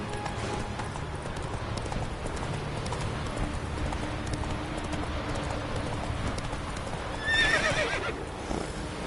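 A horse's hooves clip-clop steadily at a walk in The Witcher 3, with a game ambience bed underneath and a short whinny near the end.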